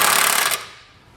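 Power tool running close and loud in a short continuous burst, then cutting off, while snugging down bolts on a base plate for a 2018 GMC Sierra 1500 Roadmaster Direct-Connect kit.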